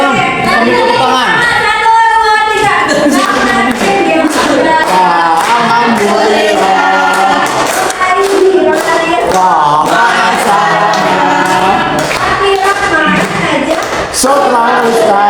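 A group claps hands in a peer-teaching classroom session, the rhythmic claps running steadily alongside loud singing or chanting voices throughout.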